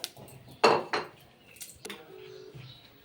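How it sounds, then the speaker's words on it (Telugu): A metal lid is set onto a pot of half a kilo of tomatoes cooking for a prawn curry, giving a couple of sharp, close clanks followed by a brief ringing rattle, then quiet. "మూత పెట్టేద్దాం, ఉడుకుతుంది టమాటా"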